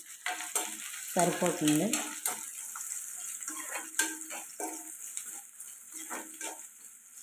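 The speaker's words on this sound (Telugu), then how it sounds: "ఇది కూడా ఫ్రై చేసుకోవాలి." Crushed garlic frying in a pan: a continuous close sizzle with stirring scrapes, while someone talks over it.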